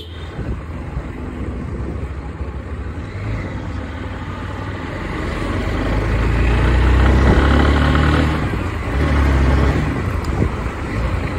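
A motorbike is ridden with a phone camera mounted on the helmet, giving a continuous engine drone mixed with wind and road rumble that swells and grows louder midway, with no talking.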